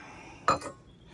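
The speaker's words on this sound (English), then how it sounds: "we'll put some ice cubes in" Ice cubes drop into a glass for iced coffee with a single sharp clink, a brief close bright knock that fades quickly against a quiet kitchen background.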